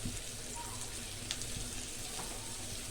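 Chopped onion and green chili frying in hot oil alongside fried lentil dumplings for a Bengali egg curry, giving a steady, moderate sizzle with faint crackles and no talk.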